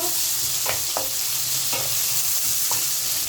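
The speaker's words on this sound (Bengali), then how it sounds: "পেঁয়াজটা পুরো ভাজা হতে হবে না, কিন্তু কাঁচা ভাবটা চলে যাওয়া পর্যন্ত একটু আমি নেড়ে নেব" Onions frying in a pan are stirred, steady sizzling broken by about five sharp scraping knocks of a spoon against the pan at uneven intervals, close and alone.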